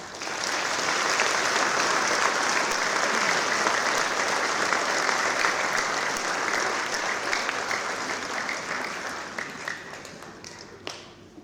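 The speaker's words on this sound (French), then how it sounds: "Je pense qu'on peut vraiment les applaudir." Sustained applause from an audience at a New Year's greetings ceremony, loud and dense from the start, thinning slightly and fading out near the end with a few last claps.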